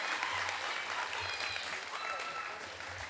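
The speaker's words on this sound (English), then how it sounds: "one more round of applause" A short burst of dense applause from an audience at a school awards ceremony, steady throughout with a few voices murmuring underneath.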